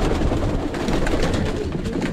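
Pigeons coo softly and steadily while being sprayed with a chlorhexidine antiseptic solution in a loft, with a constant hiss of spray and rustling beneath the birds' low calls.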